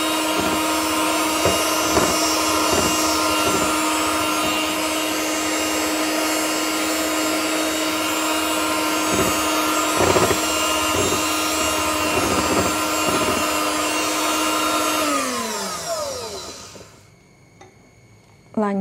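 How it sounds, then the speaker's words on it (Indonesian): An electric hand mixer whirs steadily at low speed through pukis batter, a continuous motor drone with faint scraping of the beaters against the bowl, winding down and stopping near the end. "Dan lanjut kita mixer sebentar dengan kecepatan rendah"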